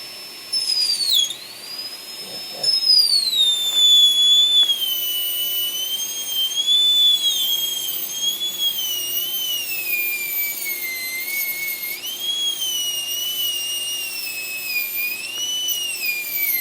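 A woodturning lathe gives off a steady, loud high-pitched whine that wavers and glides in pitch as the cut changes, continuing throughout with no talking.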